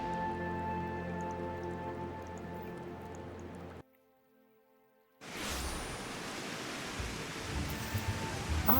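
Steady rain falling in Final Fantasy XIV at Costa del Sol, a broad hissing wash of drops that cuts out briefly mid-way and returns louder and denser.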